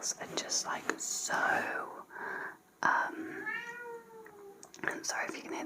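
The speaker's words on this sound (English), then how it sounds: "I'm sorry if you can hear the meowing" A cat meows in a quiet room behind a close whispering voice, with a long drawn-out meow in the middle and shorter calls near the start and end.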